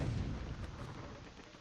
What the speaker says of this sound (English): her shot is pretty limited in range, so you can see, but it does have a massive explosion